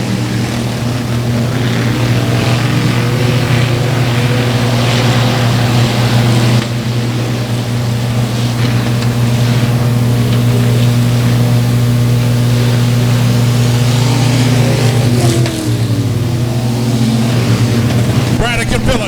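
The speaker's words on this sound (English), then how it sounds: "Braddock and Phillips mid-corner coming out of turn number 2" Loud, continuous engine drone from race cars coming out of a turn at Buffalo Creek Speedway, steady throughout with slight dips in pitch.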